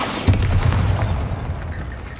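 In the Hogwarts Legacy video game, a Bombarda spell goes off as one loud, deep, close explosive boom, with a rumbling tail that fades over about two seconds.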